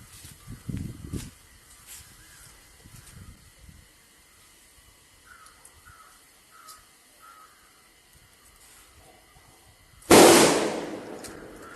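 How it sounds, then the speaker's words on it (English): A flat rectangular surface is blasted, a single sudden loud burst with a hissing, crackling tail near the end, after a long quiet stretch with faint noises and a few calls. "Let us take a flat rectangular surface. We are going to blast it."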